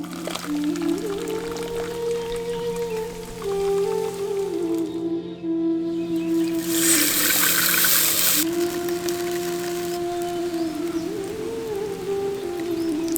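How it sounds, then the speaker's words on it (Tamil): Starchy water drained off cooked rice in a village-style kitchen, a continuous close pouring rush with a brief brighter splashing surge midway, alone and without talk. "கஞ்சி இப்ப வடிச்சு எடுத்துடலாம்."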